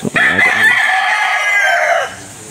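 A rooster crows loudly and close by, one long sustained cock-a-doodle-doo lasting about two seconds before cutting off.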